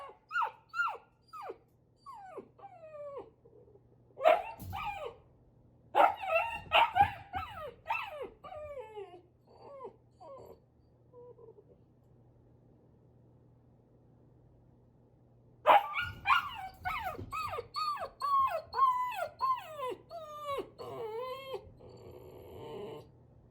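A young puppy shut in a crate whimpers with high, wavering cries and yips in two separate stretches, with near, fairly loud barks breaking in between a long quiet pause.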